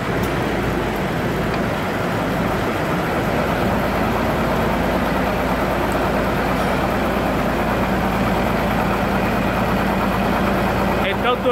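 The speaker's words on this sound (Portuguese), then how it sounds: "Olha o barulho aqui da roda." Rear wheel of a Mitsubishi Triton 3.2 4x4 turning on a lift, giving a steady, loud mechanical drone with engine hum that holds unchanged throughout.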